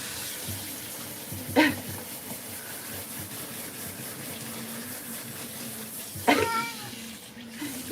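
Water runs steadily from a tap while a cat is rinsed during a lion-cut grooming session, a constant close hiss with two brief louder splashes or cries breaking through.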